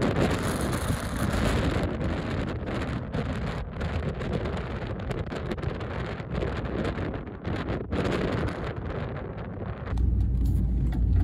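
Wind buffeting a phone microphone outdoors on a Wyoming pronghorn hunt, rumbling gusts that rise and fall throughout and swell louder near the end, with no talking.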